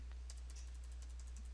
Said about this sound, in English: arrow key on my keyboard,